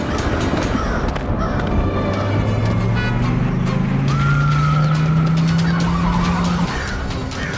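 A cartoon car drives off with a loud engine whine that rises steadily in pitch, layered over busy, dense sound effects.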